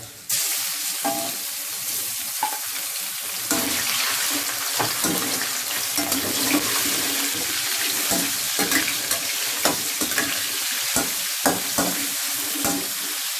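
Glass noodles, cabbage and pork stir-fried in a wok, sizzling steadily and loudly with repeated scraping and stirring strokes and some water splashing.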